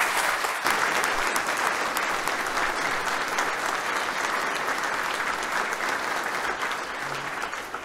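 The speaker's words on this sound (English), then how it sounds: "please welcome Michelle with a round of applause" Sustained applause from a large audience at a US Army Finance Command change of command ceremony, steady and dense for the whole stretch, with no voices over it.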